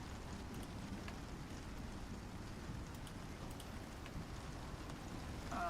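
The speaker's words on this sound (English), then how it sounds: "It's gonna get loud in the rain." Steady rain pours in the survival game Icarus, a dense, even hiss holding at constant loudness with no voices, swelling slightly louder at the very end.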